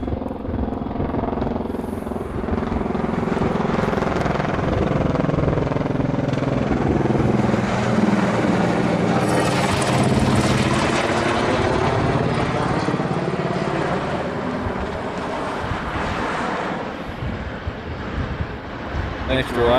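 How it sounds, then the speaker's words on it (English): A FedEx Boeing 777 jet departs with a broad, steady engine roar that swells and holds across twenty seconds, heard from a distance and loud throughout, with people talking underneath. "We caught a FedEx 777 departure."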